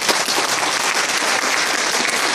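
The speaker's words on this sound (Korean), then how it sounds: "큰 박수로 환영해 주시기 바라겠습니다" Dense, steady applause fills the hall as a crowd welcomes officers entering at a Lions Club president inauguration ceremony in Incheon, South Korea.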